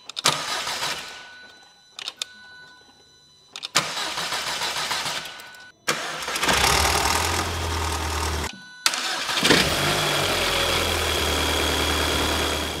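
VW Scirocco R with a rebuilt TFSI engine cranking several times in short bursts separated by pauses, then firing up and settling into a steady, close idle.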